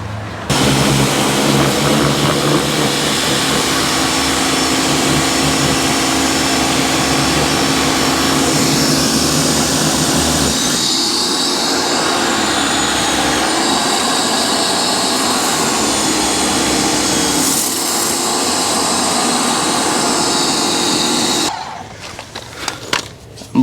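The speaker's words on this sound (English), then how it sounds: "now you just rinse the wheel off and it's basically done" A water sprayer hisses loudly and steadily as a Supra MK5 wheel is rinsed outdoors, a continuous close-up blast that dips briefly midway before cutting off near the end.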